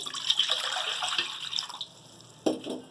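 Water splashes and gurgles as it is poured into a cooking pot while preparing nihari, a steady close pour that stops and is followed by a sharp metallic clank and some brief rattling.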